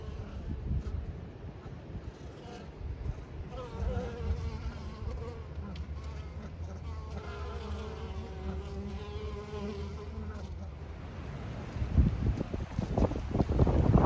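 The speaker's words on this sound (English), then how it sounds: "there's a lot of bees coming and going here." Many honeybees buzz steadily at the entrance of a Langstroth hive in a dense, continuous drone, with gusts of wind rumbling against the microphone.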